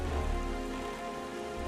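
Steady nighttime rain in a video game, a dense, even hiss of drops on surfaces with a low rumble underneath, constant from start to finish and unbroken by any voice.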